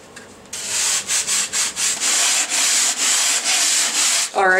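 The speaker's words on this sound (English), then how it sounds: "I could continue sanding this thing and getting more of the high spots out" Hand sanding the leading edge of a foam airfoil cut with a hot wire cutter. About a dozen rhythmic rasping strokes follow one another closely and loudly, and a short squeak comes at the end.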